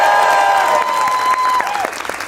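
A crowd at a Republican congressional candidate debate in Michigan applauds in a steady, loud wash of clapping that fades slightly toward the end, with a faint voice drifting over it.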